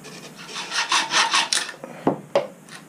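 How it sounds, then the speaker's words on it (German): A hand saw cuts through a bicycle fork steerer tube with a series of rhythmic rasping strokes, followed by a few sharp scraping knocks as the cut finishes, close and clear. "wichtig ist natürlich, dass wir halbwegs gerade sägen"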